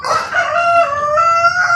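A Light Brahma rooster crows loudly and close up, one long drawn-out call with a wavering pitch.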